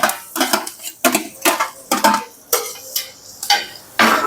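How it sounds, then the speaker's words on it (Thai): Garlic and vegetables being stir-fried in a pan, heard as about nine sharp, rhythmic scraping and clanking strokes of a utensil against metal, close and fairly loud with no talk. "ผักกระเทียม ่ในเครื่องเราก็ผัดไปเลยนะครับ"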